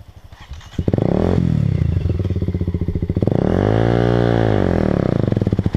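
Close and loud, an enduro motorcycle engine rises sharply from a low idle into hard revving, dips briefly, then climbs again into a sustained high rev that wavers and holds to the end.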